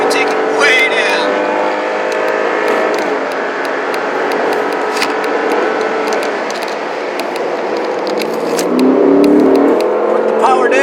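Lexus RC F Sport driving at high speed near 100 mph, a loud continuous engine and road roar with rising revs near the end, with a voice talking over it.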